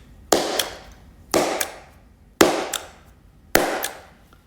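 Four sharp hand claps at even intervals, each followed by a short reverberant tail and a quick echo.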